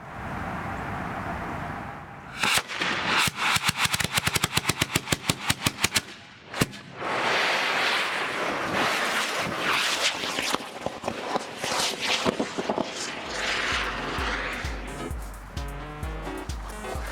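A Class G model rocket motor ignites with a sharp crackling burst, then roars continuously for several seconds as a broad, loud rushing hiss that gradually fades, with no talking.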